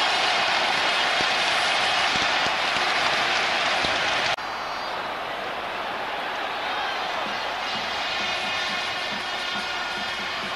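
Stadium crowd at the 1980 UEFA Cup final second leg against Eintracht Frankfurt, producing a dense, steady roar of applause and cheering throughout, easing slightly partway in, with a commentator talking over it.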